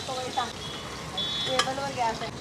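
Egg curry masala sizzles in a pan while being stirred by an elderly woman cook, a soft frying hiss with scraping strokes, fairly quiet, with brief voices in the background.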